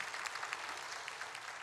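A church congregation at a Korean Sunday praise service applauds its choir, a faint, distant, steady wash of many hands clapping that continues evenly throughout.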